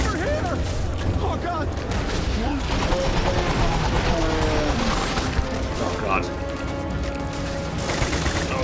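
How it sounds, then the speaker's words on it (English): Weapons fire in the video game Starfield during a fight with Terrormorphs at Londinion, a dense barrage of rapid shots and crashes over a game soundtrack, with a voice talking through it. "I'm opening fire, alright."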